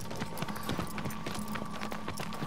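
A horse gallops in Shadow of the Colossus with a steady, fairly loud clip-clop of hooves that runs throughout over a background music bed.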